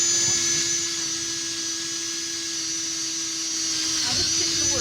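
A large 10 mm drill bores into marine plywood with a sustained steady whine and grinding hum, close and loud, with a shift in tone near the end as the bit works through.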